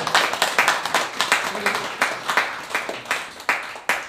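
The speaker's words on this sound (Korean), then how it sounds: "박수로 받아드리겠습니다." A crowd at a members' meeting claps in a burst of applause, steady and fairly close, with a few voices murmuring under the clapping.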